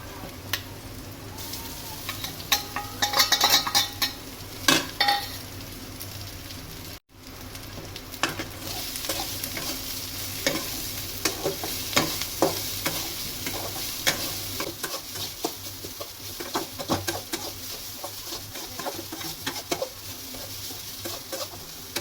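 Leftover cooked rice is tipped into a hot pan and stir-fried for a quick breakfast. The sizzle runs steady and close throughout, with scraping and stirring strokes on top. A short gap cuts in at one point, and no one speaks.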